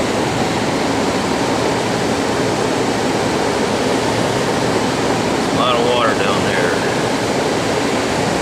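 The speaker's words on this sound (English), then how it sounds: "that should not be still spitting water out" Water from a Carrier Weathermaker 9200 furnace humidifier spits and runs out in a constant, loud splashing hiss, with a brief faint voice partway through.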